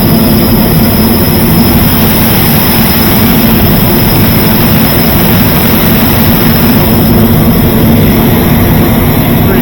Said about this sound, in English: This is air cycle machine exhaust, so it's starting to spool up right now